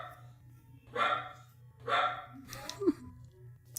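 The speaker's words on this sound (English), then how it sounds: "I hate this dog." A dog barks twice, about a second apart, each bark sharp and moderately loud over a steady low hum. A softer, yelp-like squeak follows.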